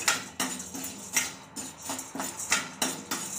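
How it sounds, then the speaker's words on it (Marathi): Gram dal being roasted in a pan on a low flame, stirred with a utensil that scrapes and taps the pan in a regular rhythm of short clattering strokes, quiet and close. "फुटाण्याची डाळ टाकून घेऊया आणि 2-3 मिनिट याला लो फ्लेमवर भाजून घेऊया।"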